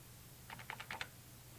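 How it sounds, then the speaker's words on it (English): A few quick key presses on a financial calculator keypad, about six faint light clicks in a short burst over a quiet background hum. "And then we type FV"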